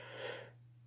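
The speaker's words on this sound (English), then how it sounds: "stop yawning." A person yawns close by, one brief breathy exhale that is loud at first and fades into quiet.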